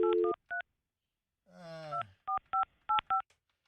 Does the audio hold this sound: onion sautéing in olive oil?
no